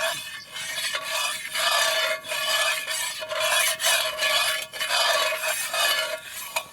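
Dark roux of oil and flour being stirred in a pot for a trout courtbouillon, with loud, close, rhythmic scraping strokes repeating back and forth, each stroke a rasping sweep with short pauses between.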